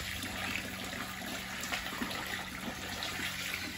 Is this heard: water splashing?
yes